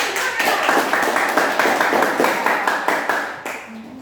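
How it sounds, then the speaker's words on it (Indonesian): A classroom of students claps together during a lesson, making a quick, rhythmic run of hand claps. The claps stay fairly steady for about three seconds and then drop away abruptly. "Tepuk tangan"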